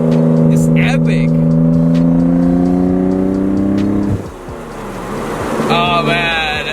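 Nissan 300ZX twin-turbo V6 engine heard from inside the car, droning steadily at high revs, then easing off briefly around the four-second mark before rising again, loud and continuous with a voice over part of it.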